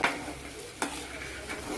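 Fried bitter gourds tipped into a pan of sizzling mustard seeds and cumin, giving a steady frying hiss with a couple of sharp stirring clatters, close and fairly quiet.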